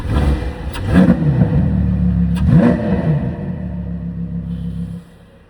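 A 10-cylinder luxury car engine with carbon-fibre trim revs loudly and close by, climbing in two rising pulls over a steady deep rumble before cutting off near the end.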